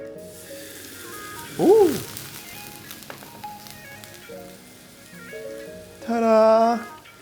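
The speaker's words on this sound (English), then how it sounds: "So now I'm gonna put the rice wine on the lid." Rice wine poured onto the hot lid of a pot of three cup chicken gives a loud, steamy sizzling burst that swells late and holds for about a second, following a brief exclaimed voice and quieter kitchen noise.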